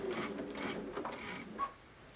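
A sewing machine stitches in the ditch on a quilt, a fairly quiet, fast mechanical whir and rattle running continuously through the short stretch.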